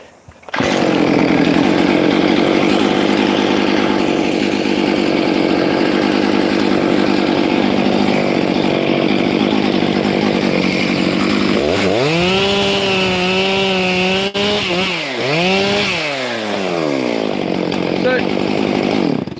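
A chainsaw cuts through dry gum wood outdoors, running loud and steady at full throttle, then revving up and down in bursts near the end as the cut finishes.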